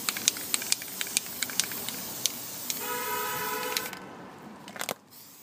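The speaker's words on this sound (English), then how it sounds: "So what I'm going to do is I'm going to spray paint" Steady hissing spray runs for several seconds with a few sharp clicks and taps, then cuts off abruptly; no talking.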